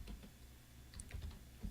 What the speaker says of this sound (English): We can very simply type our text in here.